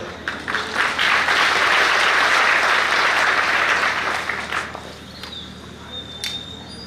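A crowd at a village religious festival gathering breaks into applause, a loud burst of many hands clapping that swells and then thins out to scattered claps, with faint voices and a few sharp clicks as it fades.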